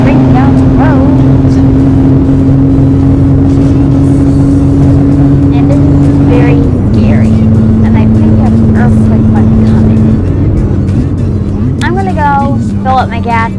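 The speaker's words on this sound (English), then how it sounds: "we are roaring down the road" A car roars along the road with a loud, steady engine drone that shifts pitch a couple of times as it moves, and people talk over it.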